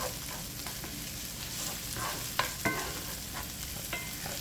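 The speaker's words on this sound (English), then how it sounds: "Garlic, we're gonna cook it for just a little while until the flavor is blended." Garlic sautés in a pan with crushed red pepper for a shrimp, potato and kale dish, giving a steady close sizzle with a few sharp stirring scrapes and knocks, no talk.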